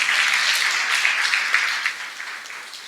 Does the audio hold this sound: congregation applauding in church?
yes